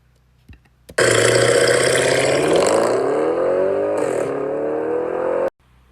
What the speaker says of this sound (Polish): rozgrzane paliwo trafia do układu wydechowego, który jest rozgrzany i wybucha, tworząc ten charakterystyczny, zajebisty dźwięk.